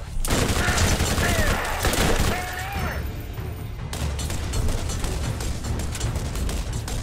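Heavy automatic fire from the Defender gun in Borderlands, a loud fusillade of rapid shots that eases slightly midway then keeps rattling, with some game sound effects mixed in.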